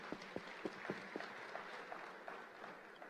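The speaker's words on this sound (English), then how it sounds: "Let's give ourselves a round of applause." An audience applauds at an awards ceremony, with faint, steady clapping spread through a hall that carries on for a few seconds.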